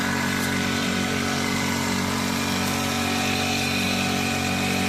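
A large engine-powered pesticide sprayer with a tank of about 45 litres runs steadily in a farm field, a loud, close, constant buzzing drone with no voices.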